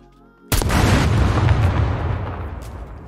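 An improvised mine detonates in the video game SCUM after a brief quiet lead-in, a sudden loud blast with a deep rumbling boom that slowly decays over the next few seconds.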